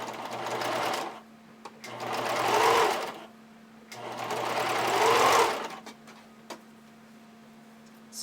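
A sewing machine runs a zigzag stitch attaching decorative-edged elastic to hipster panties, sounding in three close, steady bursts of rapid mechanical stitching separated by short pauses.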